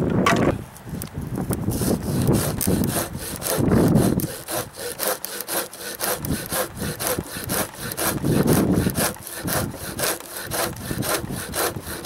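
A Felco or Tashiro hand saw cuts through a piece of very well seasoned deadfall wood, making a close, loud, rapid rasping stroke after stroke in a steady rhythm, with heavier, deeper passes at intervals.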